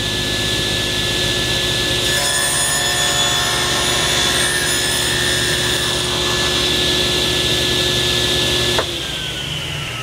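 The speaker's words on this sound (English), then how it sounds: "So I'm using the table saw here to take off the majority of the material." A table saw cuts the tenon shoulders of cherry wood, its loud steady motor whine rising into a higher-pitched cutting tone for several seconds before the blade clears the wood and the pitch drops.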